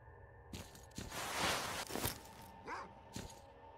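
Dogs bark in the video game S.T.A.L.K.E.R.: Call of Pripyat: several separate barks and yelps spaced across a few seconds, moderately loud over low ambient game noise, with no talk.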